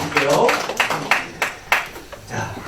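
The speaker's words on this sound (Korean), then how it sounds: "네, 박수 한번 드릴게요" A church congregation gives a short round of applause during a worship service: several scattered, sharp hand claps in quick succession over a few seconds, fairly close, with murmuring voices beneath.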